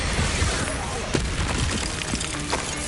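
Expulso spell blasts in the video game Hogwarts Legacy, heard as dense, overlapping booms and bursts within noisy combat effects, with a character's voice shouting among them.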